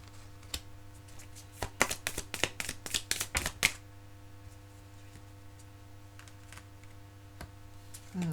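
Tarot cards riffle and flick in a quick burst of crisp snaps lasting about two seconds, followed by a few soft isolated taps as single cards are drawn, close and quiet with no talk.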